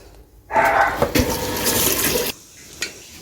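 Running water splashes steadily for about two seconds as freshly caught fish and shellfish from a natural canal are rinsed outdoors, then it stops, leaving a faint quiet background with one small knock.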